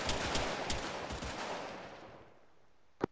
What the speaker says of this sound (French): On a des tirs côté ouest,